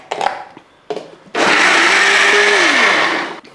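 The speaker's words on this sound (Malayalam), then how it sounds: "കുറച്ച് പച്ചവെള്ളം കൂടി ഒഴിച്ച് ഇത് നല്ലപോലെ ഒന്ന് നമുക്കൊന്ന് അരച്ചെടുക്കണം" A kitchen blender grinds a batter of egg, flour, salt, turmeric and water, a couple of short pulses followed by a loud, sustained whirring run that winds down in pitch before stopping.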